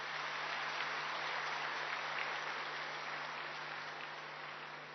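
An audience claps steadily at a spiritual class led by Rajyogini Dadi Janki, dense continuous applause that stays even and loud throughout, with no voices.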